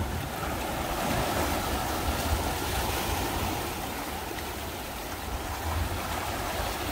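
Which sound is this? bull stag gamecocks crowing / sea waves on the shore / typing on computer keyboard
sea waves on the shore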